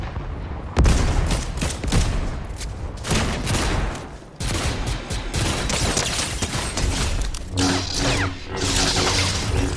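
Rapid gunfire in the video game Fortnite, dense bursts of shots with crashing and shattering impacts, loud and nearly continuous with brief lulls, backed by game effects.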